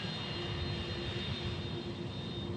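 A FedEx jet on the runway at Memphis International Airport gives a steady, loud engine roar with a constant whine, unbroken for the whole stretch.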